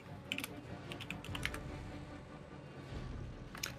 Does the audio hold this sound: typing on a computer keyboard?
yes